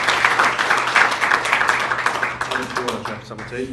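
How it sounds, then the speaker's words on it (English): A dinner audience at a Liverpool Chamber of Commerce event applauds a police superintendent with a moderate, sustained round of clapping that thins toward the end, while a voice speaks over part of it. "round of applause, please, for Superintendent APM Adam White"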